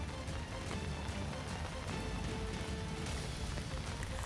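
Heavy monsoon downpour in Jaunpur, Uttar Pradesh, a steady, dense hiss of rain pounding surfaces, loud and continuous throughout with no voices.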